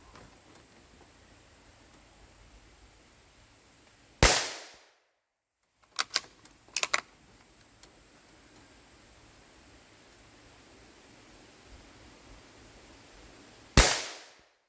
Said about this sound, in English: I pulled the trigger and I saw it hit the dirt.